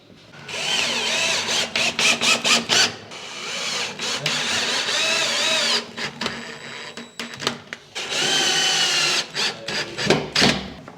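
A power drill drives screws into a foam board kitchen cabinet, with loud, close whirring bursts of several seconds each, broken by short stop-start pulses and brief pauses between screws.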